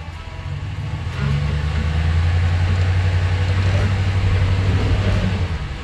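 A RAM 1500 pickup engine drones steadily in 4WD while stuck off-road, a low rumble that rises and holds loud as the truck strains for grip.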